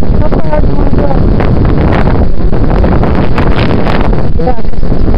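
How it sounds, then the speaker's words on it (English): Strong wind blowing across a frozen lake in winter, roaring straight into the microphone as a loud, continuous buffeting rush with no letup. "because it's really windy"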